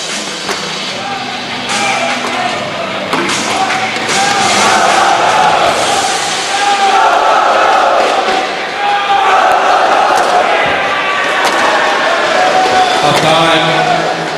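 A large crowd fills the arena at a SEA Games 2017 women's team squash final between Singapore and Malaysia, a loud steady roar of voices with occasional thuds and a commentator speaking over it.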